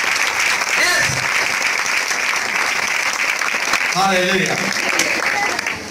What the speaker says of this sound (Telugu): అందరూ గట్టిగా చప్పట్లు కొట్టండి, గట్టిగా చప్పట్లు కొట్టాలి